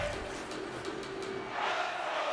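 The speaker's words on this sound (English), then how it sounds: "And a Let's Go Lightning chant." Arena crowd at an NHL hockey game, Pittsburgh at Tampa Bay, chanting "Let's Go Lightning" in a steady roar, with a brief rhythmic lift near the end.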